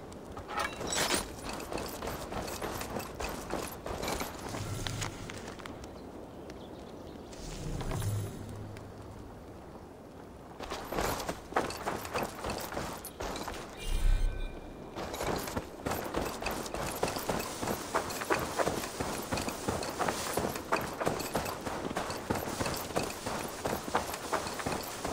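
Horse hooves in Assassin's Creed Valhalla, a steady rapid clip-clop of galloping over open ground, loud and continuous with a short slower walking stretch in the middle.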